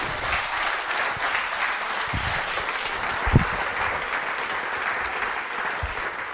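An audience at a school quiz show applauds in a steady, sustained burst of clapping that stays even in loudness throughout, with no voices breaking through.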